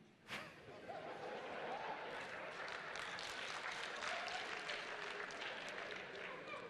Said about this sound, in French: Puisque quand il a parlé, beaucoup ont applaudi dans la salle.